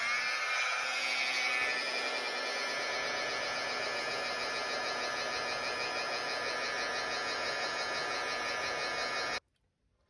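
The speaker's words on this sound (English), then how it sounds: "I'm going to use our heat tool to shrink that." A heat tool shrinks heat-shrink tubing over wiring for dollhouse lights, giving a steady whirring hum with faint tonal whine that runs evenly, then cuts off abruptly near the end.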